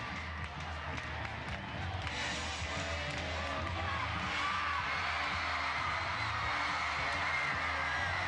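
A roaring arena crowd at a 2003 SEC gymnastics championship floor exercise, with cheering and whoops swelling into a sustained, dense wash of noise and a commentator talking faintly beneath.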